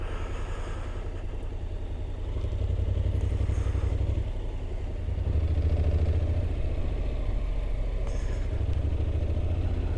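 A Honda NC automatic motorcycle idles on a road in the Netherlands, its low, steady engine throb swelling slightly a couple of times, with no talk over it.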